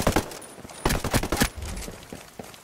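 Rapid overlapping bursts of automatic gunfire from a PvP match in the PS4 shooter Ghost Recon Breakpoint, loud and sharp in clustered volleys with short pauses between them.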